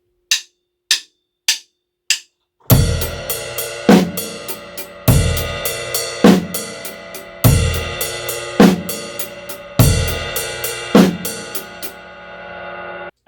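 A drum kit plays a paradiddle groove on ride cymbal, snare and bass drum, opening with four sparse count-in clicks before a steady, loud pattern with accented bass drum hits and continuous ride wash.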